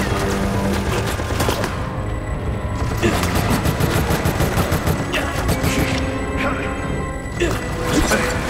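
Machine-gun fire in Resident Evil: Operation Raccoon City, with dense rapid bursts running almost nonstop at loud volume over a busy game soundtrack of booms and mechanical clatter.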